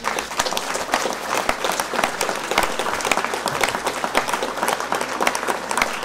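Sustained applause from an audience at a mayor's New Year address, a dense, steady wash of clapping filling the whole stretch, loud and even with no clear voice above it.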